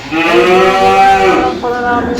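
Cattle being raised for Qurbani on a farm let out a loud, drawn-out moo close by, followed by a second shorter low call, with a brief spoken word overlapping.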